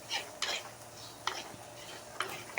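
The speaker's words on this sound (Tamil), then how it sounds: "அடிப்பிடிக்காத அளவுக்கு வணக்கிக்கணும்" Masala of pepper and coriander powder being sautéed in a pan for sardine curry: quiet scraping stirs at irregular intervals with a faint sizzle underneath.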